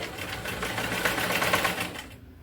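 A sewing machine runs in a fast, even burst while stitching the cross piece of a blouse neck, a close mechanical whir that cuts off just before the end.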